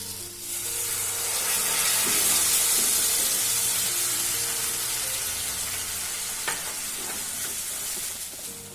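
A cashew and almond paste fries in a pan for a paneer masala curry, giving a loud, steady sizzle with stirring scrapes and a brief clack partway through, and no one talking.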